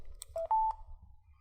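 Xiaomi Mi Portable BT Speaker giving its Bluetooth connection tones: a short two-part electronic beep, a brief tone followed by a longer one, clear and close in an otherwise quiet room.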